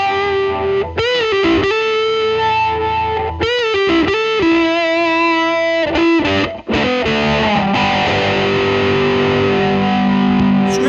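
Electric guitar played through a distortion setting on a $35 DIY kit, sustained gritty chords and notes ringing out loudly with brief pauses between phrases.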